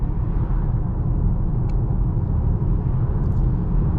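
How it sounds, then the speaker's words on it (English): Steady low road rumble and tire noise inside a 2022 VW Atlas Cross Sport SEL Premium R-Line on the move, with a faint wind hiss around the large mirrors, constant and even. "A little bit of tire noise coming, and a little bit of wind noise too from these large mirrors"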